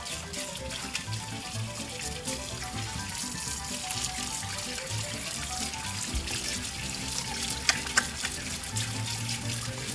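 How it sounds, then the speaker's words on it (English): A tap runs steadily during handwashing, a continuous close splash of water with music playing underneath. "it's really important that we wash your hands for 20 seconds"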